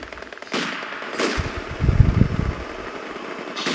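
Gunfire rattles in a Company of Heroes 2 battle, with machine-gun bursts and sharp shots at middling distance over a low mechanical rumble, no voices.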